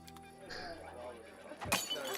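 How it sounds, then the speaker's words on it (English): A glass shattering effect sounds in the fantasy role-playing game Pathfinder: Wrath of the Righteous. A sudden bright crash and scattering break cut through layered game music and ambience near the end. "I like a glass shattering sound effect."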